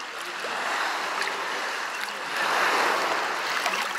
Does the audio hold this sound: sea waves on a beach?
yes